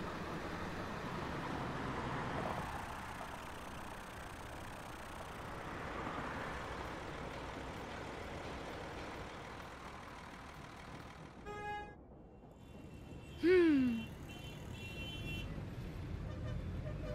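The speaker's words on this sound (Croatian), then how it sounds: "Ti auti zvuče kao da se ljute jedni na druge." Cartoon cars stuck in traffic in a toy-vehicle town honk angrily, a few sharp horn toots and a squeaky rising-falling tone late on, over a low steady traffic hum.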